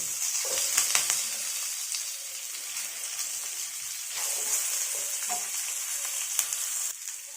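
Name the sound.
chopped onion and curry leaves sautéing in a pan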